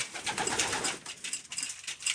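Pairs of Carnot and homing pigeons in a breeding loft coo softly among a steady rustle and flutter of wings, the sound continuous and close without any talk.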